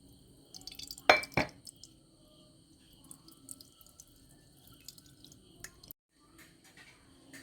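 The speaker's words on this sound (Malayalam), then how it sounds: "ഇനി ഇത് നമുക്കിതൊന്ന് അരിച്ചെടുക്കണം" Ground ragi (finger millet) slurry is strained through a sieve, giving sparse drips and trickles of liquid with a sharp clink of utensils early on and quiet pauses between.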